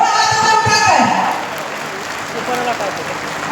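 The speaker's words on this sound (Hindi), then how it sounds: "एक बार जोरदार तालियां बजा दीजिए" Applause from an audience at a student award ceremony, loud clapping at the start that slowly fades into a softer, lingering patter.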